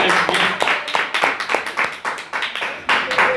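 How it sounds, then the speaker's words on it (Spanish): A church congregation claps in praise, a loud, near ensemble of hands in somewhat rhythmic bursts with uneven peaks, and no voices over it. "Un fuerte aplauso, Señor"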